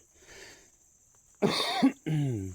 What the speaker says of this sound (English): gave me a little cough